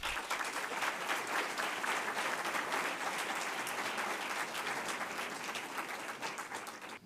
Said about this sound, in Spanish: Un aplauso para él, Adrián